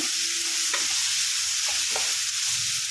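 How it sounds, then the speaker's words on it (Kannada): Turmeric masala sizzles and fries in a pan for hotel-style chicken sambar, with a steady loud hiss throughout and a few spoon scrapes as it is stirred, no voices. "ಇವಾಗ ಚೆನ್ನಾಗಿ ಫ್ರೈ ಮಾಡ್ಕೊಳ್ಳೋಣ"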